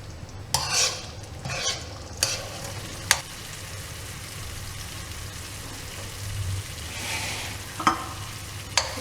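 Tamarind rice paste simmering and frying in oil in a pan, a low continuous sizzle with a few stirring scrapes and utensil knocks, close by and without talk.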